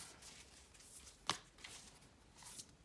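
Quiet papery riffling of cards being shuffled, with one sharper snap partway through, close by and soft.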